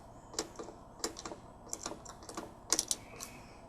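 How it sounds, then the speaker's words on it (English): Keys clatter on a typewriter-style keyboard with brief backspace and delete strokes, a sparse run of separate clicks and taps, close and fairly quiet. "I can simply backspace and then delete."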